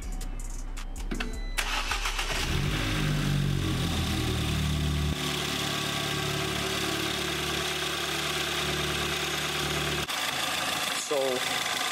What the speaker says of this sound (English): I'm gonna leave the cap off and let the car run